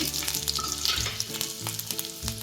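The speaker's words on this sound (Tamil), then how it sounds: "நான் கடலை எண்ணெய் போட்டிருக்கேன். இப்போ கடுகு போட்டுக்கலாம். ஒரு பல்லு பூண்டு போட்டிருக்கேன் கட் பண்ணி." Mustard seeds and chopped garlic sizzle in hot peanut oil, a steady crackling fry with scattered pops and stirring taps, close and fairly loud, with no voices.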